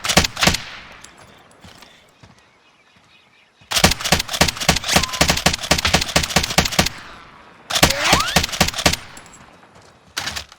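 Bursts of rapid automatic fire from a Stoner LMG in Call of Duty Warzone, a short volley, a pause, then two longer sustained strings, loud and near.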